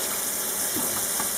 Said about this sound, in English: Now we want cool water for rinsing.